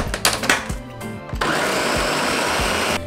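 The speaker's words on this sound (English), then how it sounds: "now we're just going to blend everything until we have a smooth sauce" After a few brief pulses, a blender roars up to a steady, loud whir, blending a smooth green chile sauce for a crockpot pork recipe.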